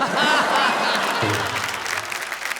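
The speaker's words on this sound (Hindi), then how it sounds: "आपने मेरे सम्मान में इतनी जोरदार ताली बजाई।" A live audience at a Hindi poetry show claps loudly in a dense burst of applause that gradually thins out, with a voice speaking over the tail end.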